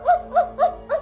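A voice imitates a dog, giving four quick, evenly spaced woof sounds in a row, close and clear.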